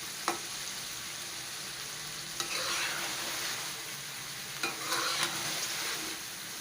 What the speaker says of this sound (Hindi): अभी तक इसको और भूनना है ताकि आलू नरम हो जाएं। 5 से 7 मिनट और इसको भून लेंगे।